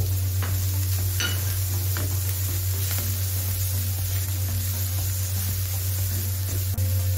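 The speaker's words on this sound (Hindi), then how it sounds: "हम इसमें डाल देंगे ब्री कटी शिमला मिर्च" Chopped bell pepper frying in a pan alongside boiled chicken, a steady close sizzle with occasional scraping stirs and a low constant hum beneath.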